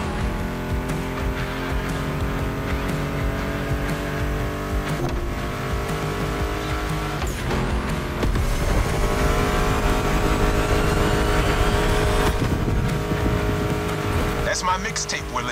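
Race cars in The Crew Motorfest event races roar with continuous engine drone, revving and shifting pitch, with occasional tire squeal, under background music and a voice talking.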